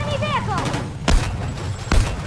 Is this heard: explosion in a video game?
yes